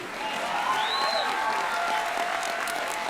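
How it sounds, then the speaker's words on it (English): A group claps steadily for a short stretch on a late-night talk show, a dense, moderately loud patter of hands with a faint whistle-like tone briefly rising above it. "Clap for me, you marshmallows."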